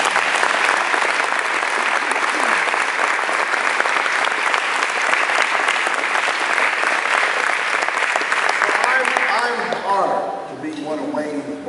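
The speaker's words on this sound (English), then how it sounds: "So let's give him another round of applause." Sustained applause from an audience honoring Dr. T. Wayne Bailey at a Stetson celebration of his 50 years, loud and dense for about ten seconds, then thinning out into scattered claps and murmurs.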